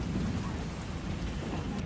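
Steady heavy rain pours down continuously, a dense broadband hiss with no breaks and no voices.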